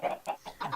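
Minecraft chickens give a quick run of about four soft, clipped clucks in close succession, brief and fairly quiet.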